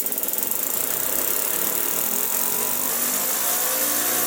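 A Lego air-powered single-cylinder engine with a flywheel runs at high speed, giving off a fast, steady, buzzing chatter that holds close and loud throughout.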